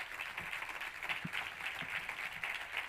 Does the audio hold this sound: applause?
yes